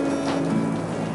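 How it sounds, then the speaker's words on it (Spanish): Steady rain hisses down in a continuous, fairly loud wash of noise with a low hum beneath, brief and unbroken, with no voices. "Disfrutemos de la lluvia que está maravillosa"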